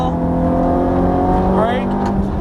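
A Ferrari F430 engine accelerates as the throttle is squeezed, building a loud rising drone whose pitch climbs toward the end.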